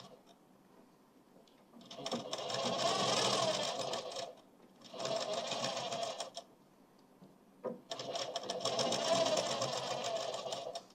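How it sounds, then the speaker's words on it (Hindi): A sewing machine stitches the side seam of a suit in three steady, buzzing runs of rapid needle strokes, close and fairly loud, with brief quiet pauses between them. "अब यहाँ से सिलाई आपकी रिपीट चलेगी।"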